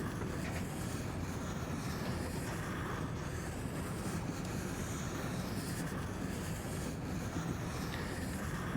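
Train ambience in the Little Misfortune video game: a steady, dense rumble of a moving train interior, unchanging and loud throughout, with a faint airy hiss on top.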